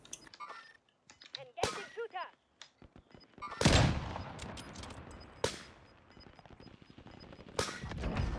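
Gunfire in the battle royale game Call of Duty Warzone, a few sharp loud shots spaced apart among quieter clicks and game sounds, ending in a headshot, with someone talking intermittently.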